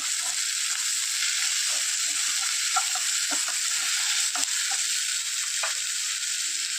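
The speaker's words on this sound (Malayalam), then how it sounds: "ഉള്ളിയിട്ട് വഴന്നു വരാൻ തുടങ്ങിയിട്ടുണ്ട്" Onions sautéing for a Kerala-style fish roast give a steady, close frying sizzle throughout, with faint occasional stirring clicks and no talking.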